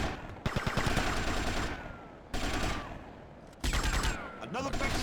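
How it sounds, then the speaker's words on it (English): Bursts of rapid pistol gunfire from the video game GTA Vice City Stories crack out in three loud volleys separated by brief pauses, sharp and close, with some talking mixed in. "Another pistol gunfire."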